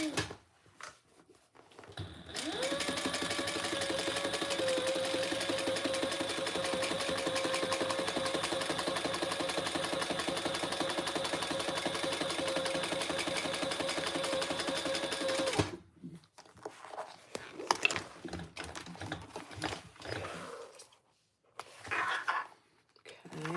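A sewing machine runs one long continuous burst of top stitching on a medium tote bag, a steady mechanical whirr for about thirteen seconds, then stops and gives way to soft handling and fabric shuffling.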